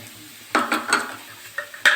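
Ground cauliflower with ginger, salt, lemon and whole cumin fries in a pan, giving a few close spoon scrapes and clinks over a faint sizzle, with no talk.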